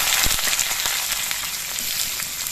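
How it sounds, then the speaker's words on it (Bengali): Chopped onions sizzle and crackle in hot oil in a pan with crushed garlic, a close, steady frying hiss with scattered pops. "এই পেঁয়াজটাকে কিছুক্ষণ ভেজে নিতে হবে।"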